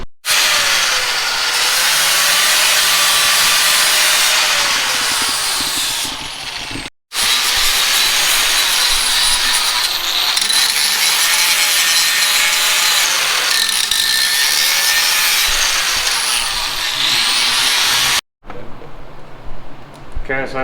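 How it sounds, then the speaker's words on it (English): A power tool cuts through a drive chain during a buggy build, grinding as a loud, harsh, continuous hiss up close, broken by two brief stops and then resuming. "So we're just going to cut the rest of the chain off and put the master link in there"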